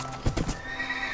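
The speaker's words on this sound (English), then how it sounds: "There's a horse." A horse in a video game gives a short whinny with a quick clatter of hooves, one brief burst, close and clear with no talking.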